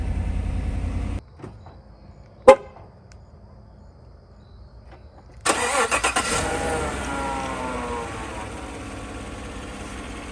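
A 2016 Chevrolet Silverado pickup with a rebuilt engine cranks and fires up after a brief click and pause, catching with a loud roar that settles into a steady idle, heard close and without talk.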